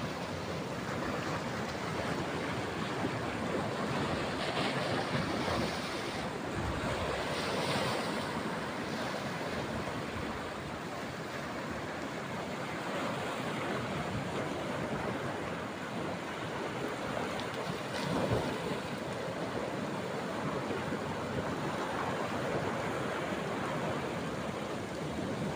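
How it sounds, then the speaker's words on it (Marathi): Sea waves breaking on the shore at Bankot, a continuous loud wash of surf with gentle swells and wind, no talk. "लाट येतोय."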